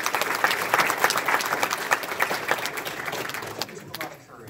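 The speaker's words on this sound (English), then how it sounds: "So let's give her one more round of applause." A church congregation gives a round of applause, dense steady clapping from many hands that tapers off near the end, with speech faintly present.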